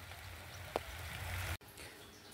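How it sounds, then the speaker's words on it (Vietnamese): Rain falling on a coffee garden makes a steady, even hiss with a low rumble beneath it and one brief sharper drip or tap. It is heard without any talking. "Mưa rồi cả nhà ơi"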